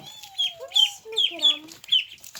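Young ducklings swimming give a run of high, thin peeps and chirps, close and fairly loud, in quick irregular bursts.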